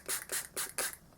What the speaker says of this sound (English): And then I'm taking this is very exciting, my Kat Von D Lock and Load spray.